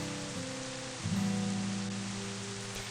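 Steady rain hisses evenly in a visual novel, Tailor Tales, as a soft constant wash over low sustained tones, with a small rise in level partway through and no speech.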